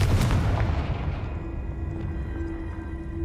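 A Confringo spell blast in Hogwarts Legacy lands as a heavy booming burst at the start, then rolls away in a fading low rumble with a faint lingering tone.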